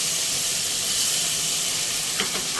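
Ginger, mustard and coriander paste sizzles steadily in a hot pan with bay leaf and green chilli for a hilsa curry, a close, continuous hiss with a few small pops near the end and no talking.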